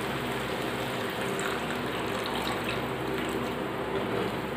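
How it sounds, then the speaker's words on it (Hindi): Water is poured steadily into tomato gravy in a pan for a bottle gourd curry, making a continuous close rushing stream that holds at an even loudness throughout, with no talking. "अब इसमें हम डालेंगे ग्रेवी बनाने के लिए पानी,"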